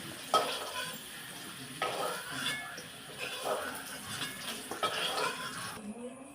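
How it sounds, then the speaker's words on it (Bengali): Potato pieces frying in oil for a rohu fish dish, stirred and lifted out, giving a soft steady sizzle with several spoon scrapes and clinks against the pan, fairly faint and close, with a little speech underneath. "আলুগুলো ভাজা হয়ে গেছে"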